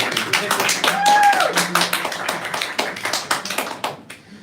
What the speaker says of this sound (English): Oh, you got a small round of applause back there.